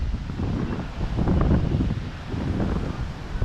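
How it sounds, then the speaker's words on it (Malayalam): Huge, frothy sea waves crash onto a flooded shore during a violent sea surge, producing a deep, continuous, surging roar with wind buffeting across it and no voices. "തിര അതിഭയങ്കരമായിട്ടാണ് വരുന്നത് കേട്ടോ. ഭയങ്കര തിരമാലകളാണ് വരുന്നത്."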